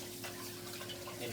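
Butternut squash pieces being washed under a running tap, with a steady low wash of flowing water and a constant hum in the room behind it.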